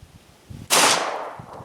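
A Glock 19 pistol fires a single Hornady 124-grain Critical Duty hollow point round, one sharp loud report with a short decaying tail, preceded by faint low rumble.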